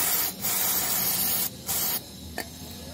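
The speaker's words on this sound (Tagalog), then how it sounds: "Yung brake cleaner, spray mo lang sa basahan." Brake cleaner sprayed from an aerosol can onto a rag while cleaning the front brakes of a Mitsubishi Xpander: several close hissing bursts, a long one followed by shorter ones and a final quick puff, with no talking.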